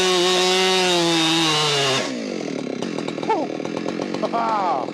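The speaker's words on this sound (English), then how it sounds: "So I've cut up the biggest bit of oak I ever have in my life" A chainsaw, Husqvarna 592xp or Stihl MS 661, roars at full throttle, then bogs down in a lower, rougher growl as it bites into a giant oak butt log, loud and close throughout.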